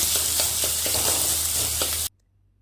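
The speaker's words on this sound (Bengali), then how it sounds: "এবার একটু তেল নিয়ে তাতে চিংড়ি মাছের মাথার বাটাটা দিয়ে দিলাম। এবার আস্তে আস্তে এটাকেও ভালো করে ভাজবো কিছুক্ষণ।" Paste of ground prawn heads sizzles in hot oil, a loud, dense crackle with soft stirring taps, then cuts off abruptly into near silence; no one speaks.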